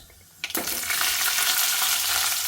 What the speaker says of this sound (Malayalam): കടുകൊന്ന് പൊട്ടട്ടെ. നല്ല ചൂടുള്ള എണ്ണ കൊണ്ട് കടുക് വേഗം പൊട്ടു.